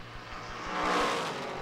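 Race cars, Porsches and a Mazda in a Grand-Am Rolex GT Series event, roar past on track, engine noise swelling to a peak and easing off over a brief stretch, with no talk.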